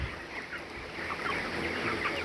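A flock of chickens in a poultry shed clucks in a dense, continuous murmur, with no single bird standing out.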